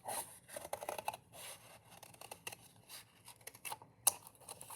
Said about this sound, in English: I'm going to try to make a half circle using these scissors.